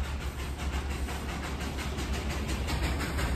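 Toy train steam engine near Darjeeling rumbling steadily with a broad hiss and low chugging, close and fairly loud, no voices.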